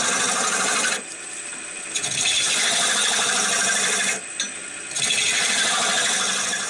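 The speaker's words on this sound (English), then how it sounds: "there's some discrepancy here that I can sand out" Sandpaper rasps against a wooden baseball bat spinning on a lathe, a loud continuous abrasive hiss that dips briefly twice as the pressure eases, then resumes.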